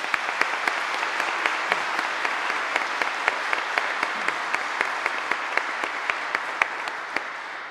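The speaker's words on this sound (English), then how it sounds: "Thank you, Monsignor, and give them a round of applause." Steady congregational applause fills a church at a confirmation Mass, with individual sharp claps standing out at an even rhythm over the softer wash of the crowd.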